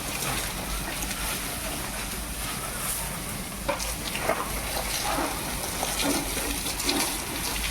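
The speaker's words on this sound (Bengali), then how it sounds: "দেখো কাকু আসছে জল দিতে, আর আমাদের পাইপের যে স্পিড" Water gushing at high pressure from a household pipe, a steady loud rushing hiss that runs unbroken throughout.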